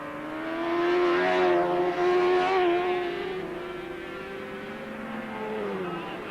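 Race cars of the 1990/91 Neil Robinson memorial race roar along the track near the chicane, their engines rising in pitch as they approach and then fading as they pass, loud and close with no talk over them.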